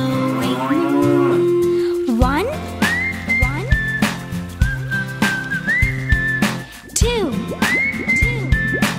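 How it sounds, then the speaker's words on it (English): Cows moo in a long drawn-out call over a bouncy children's counting song with a whistled melody and steady rhythmic accompaniment. "Four cows going moo."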